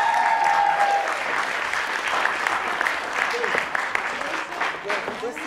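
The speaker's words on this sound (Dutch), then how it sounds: "Alsjeblieft, applaus." An audience claps steadily through a film award ceremony, a loud, dense wash of many hands with voices faintly mixed in underneath.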